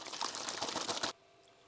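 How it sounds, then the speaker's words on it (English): Water poured into an orange Gatorade-style drink mix, a steady splashing stream for about a second that stops abruptly, leaving near silence. "So let's add about this amount of water."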